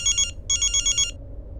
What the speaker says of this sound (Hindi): प्रीता पुत्र का फोन है।